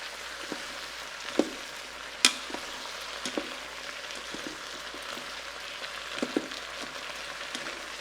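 Sausages and peppers fry in a pressure cooker pot, a soft, steady sizzle broken by a few sharp clinks and scrapes as they are tossed.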